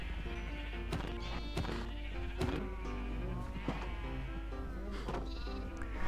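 Sheep bleat repeatedly in the Minecraft video game as animals are cleared from a pen, several overlapping bleats over a steady backdrop of game sounds and music.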